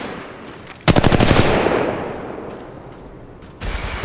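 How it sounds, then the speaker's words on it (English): Gunfire in the mobile battle royale game Apex Legends Mobile, aimed at the player: a sudden loud burst of rapid automatic shots that fades into echoing tails, then a second burst starts near the end. "So shots fired at me."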